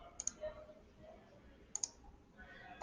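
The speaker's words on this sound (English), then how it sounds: "we're going to click each of the edges" Sharp mouse clicks in CAD software as edges are picked for a fillet, two quick pairs about a second and a half apart, quiet and close over a faint room hum.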